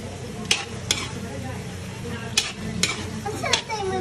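Half-cooked vegetables and carrots for chop suey are stirred in a pan, with a steady low sizzle underneath and several sharp clinks of a utensil against the pan spaced across the moment.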